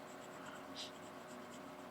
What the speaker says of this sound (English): we're going to go ahead and see how this nib does at filling in an